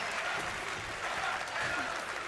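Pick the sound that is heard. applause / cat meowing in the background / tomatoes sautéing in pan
applause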